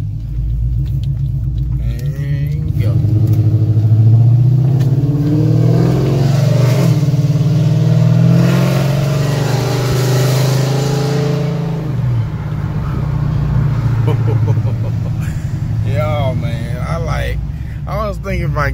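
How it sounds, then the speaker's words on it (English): A car engine rumbles and revs steadily while driving, loud and continuous, with people talking over it throughout. "I love the way my car sound now so much"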